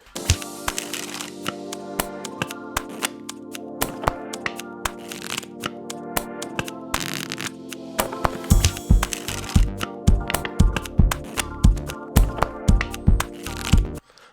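Music built from playing card sounds: crisp card snaps and riffles in a steady beat over sustained chords, with punchier low card thumps joining the rhythm in the second half.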